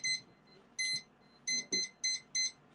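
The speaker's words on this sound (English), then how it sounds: "Oh, beep, beep, beep, beep." A kitchen alarm beeps while cooking chicken ginataan, in short, sharp, high-pitched bursts: a few irregular early beeps, then four evenly spaced ones in quick succession, moderately loud against a quiet room.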